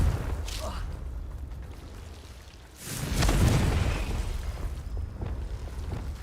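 A Confringo blasting spell in Hogwarts Legacy bursts into a deep, rumbling explosion about midway, swelling loud and slowly decaying over a murky low drone.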